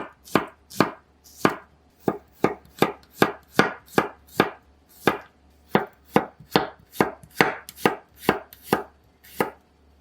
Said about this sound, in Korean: 마늘 1컵은 얇게 슬라이스 하세요.